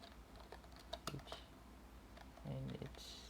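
Keys clatter on a computer keyboard at the MySQL command line, a few quiet clicks and taps at low level with a voice talking over them.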